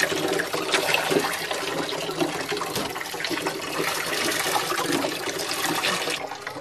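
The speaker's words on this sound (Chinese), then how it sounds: "就一直要洗啊，直到把这个桶里面的水全部装满了" Water sloshes and pours steadily in a bucket as sweet potato starch is washed out, a continuous, fairly loud gushing and splashing with no talking.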